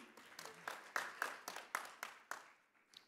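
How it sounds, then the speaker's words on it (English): Conference audience at a retail event in Dubai breaks into applause, a scattered round of claps with distinct individual hand strikes that swells then tapers off over a few seconds, heard from within a moderately sized hall. "Big round of applause to John."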